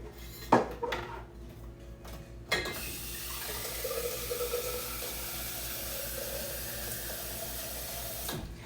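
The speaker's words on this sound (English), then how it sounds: "I do want to put a little bit of water down in here." Water runs from a tap into a pot holding an 8-pound beef butt roast, a steady hissing pour lasting several seconds after a few clanks of metal cookware.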